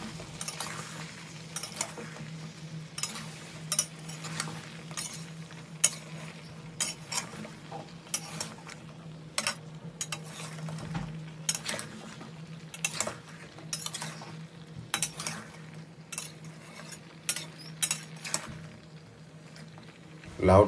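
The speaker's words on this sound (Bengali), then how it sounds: "এবার আমি দিয়ে দেবো কেটে রাখা লাউ। বন্ধুরা, এটা দেশি লাউ, তো লাউটাকে আমি ভালো করে কষে নেব" Desi bottle gourd being stir-fried in a pan, with sharp metal spatula taps and scrapes against the pan in an irregular rhythm over a low background hum.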